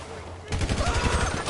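Rapid burst of video game gunfire during a GTA story-mode shootout, loud and rhythmic after a short quiet start, with voices in the game around it.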